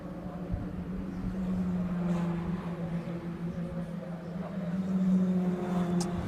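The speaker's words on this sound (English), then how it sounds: "And as the cars are coming round now." Racing cars come round the Donington Park circuit near a tunnel into the midfield section, a steady moderate engine drone with tonal harmonics swelling twice, heard alone at a distance.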